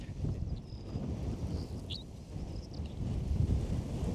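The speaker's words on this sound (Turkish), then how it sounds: "Şu anda lodos esiyor." A strong southwesterly lodos wind blows across an open farm field, a steady low roar buffeting the microphone, with faint high chirps drifting above and no talk.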